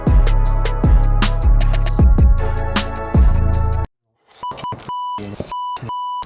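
A rapid run of loud electronic tones, then after a brief pause a series of sharp, evenly spaced beeps repeating alone.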